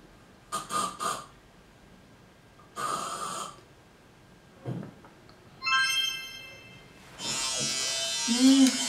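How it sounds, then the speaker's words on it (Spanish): An electric shaver buzzes in several short bursts separated by pauses, the last and longest run sounding louder and rougher, close by with no talking. "Es una afeitadora eléctrica."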